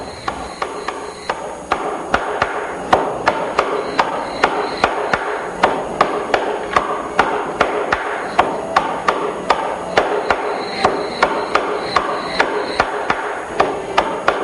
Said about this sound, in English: Now the bridge pins are hammered in, one after another.